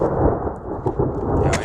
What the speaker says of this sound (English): like a storm's a coming.